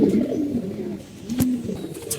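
Pigeons coo in a loft where the birds are nesting with eggs and chicks, low throaty calls rising and falling steadily and close by, with one brief sharp click near the middle.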